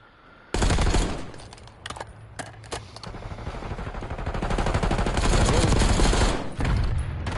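Rapid automatic gunfire rattles in a video game match, loud sustained bursts that begin abruptly and keep hammering with only brief breaks.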